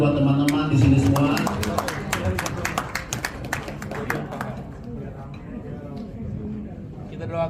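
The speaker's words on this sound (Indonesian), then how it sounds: "boleh tepuk tangan buat teman-teman di sini semua" An audience at a first-anniversary celebration event gives a burst of clapping that starts over a speaker's voice, swells, then thins into scattered claps and fades within a few seconds.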